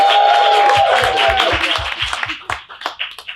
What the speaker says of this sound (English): Let's give Lauren and Joe a round of applause for being here